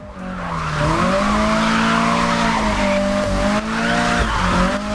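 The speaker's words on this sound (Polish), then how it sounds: "driftujemy oczywiście w ruchu ulicznym" A car drifts through traffic in a street racing video game, its engine droning loudly with shifting revs while the tires squeal steadily through long slides, with brief breaks as the car changes direction.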